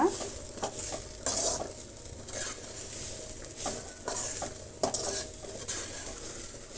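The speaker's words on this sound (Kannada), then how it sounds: "ಒಂದು ಅರ್ಧ ನಿಮಿಷಕ್ಕಿಂತ ಇನ್ನು ಕಡಿಮೆನೇ ನಾವು ಫ್ರೈ ಮಾಡೋಣ" Carrot palya fries in a pan with a soft continuous sizzle, broken by repeated scraping and clinking strokes of a spoon stirring against the pan.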